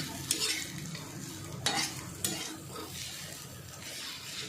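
Fenugreek and potato vegetable being stirred in an iron pan, with a steady soft sizzle and a few sharp scraping strokes of the spatula against the metal, close and alone.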